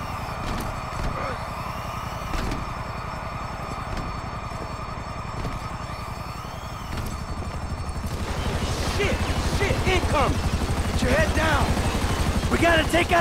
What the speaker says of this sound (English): Gotta take out that chopper!